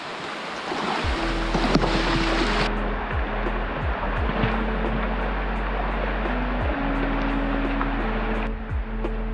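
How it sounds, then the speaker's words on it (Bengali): A strong stream current rushes continuously and loudly at Napittachora waterfall trail in Sitakunda during rain, a dense close roar of water with a steady low hum running underneath. "দেখছেন এখানে কত বেশি ঢেউ মানে স্রোত"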